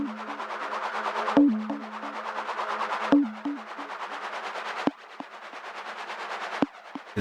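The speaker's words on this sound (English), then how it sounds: "This noise kind of sweep comes also from the plonk." Repeating broadband noise sweeps from a Plonk Eurorack module, pulsing in a steady loop alongside a stepped low synth tone and sharp drum-like hits in a hybrid iPad and modular setup.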